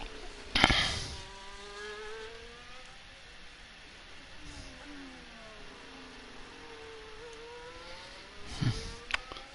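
McLaren race car in the Full Gas Racing video game at Monaco, its engine a steady high whine with gliding pitch sweeps as it runs through turns, with sharper bursts near the start and end.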